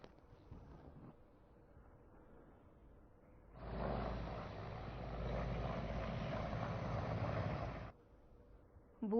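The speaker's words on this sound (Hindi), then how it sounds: "सुबह से ही बीजापुर के आसमान में हेलीकॉप्टरों की आवाज गूंज रही है।" Helicopters fly over Bijapur, Chhattisgarh, during election preparations. A steady, broad rotor rumble swells in from a quiet background, holds for about four seconds at moderate distance, then cuts off.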